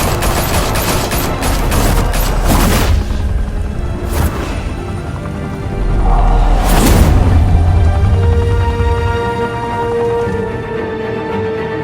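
Gunfire in Batman: The Telltale Series: loud, close bursts of rapid shots crackle in quick volleys, with a couple of heavier cracks standing out, then tail off into a lingering rumble.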